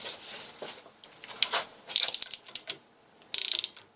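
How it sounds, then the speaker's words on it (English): A torque wrench ratchets while tightening engine bolts to about 70 foot-pounds, giving bursts of quick metallic clicks in two clear runs, close up and with no talk. "as you're torquing the bolt in place and as you're measuring how much stretch you're achieving on the bolt"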